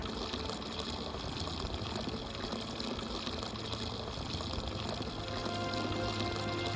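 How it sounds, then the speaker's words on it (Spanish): Clean water pours steadily from a mountain fountain in the Dolomites, a continuous close splashing gush without pauses or voices. "estas fuentes son de agua limpia, de la más alta calidad"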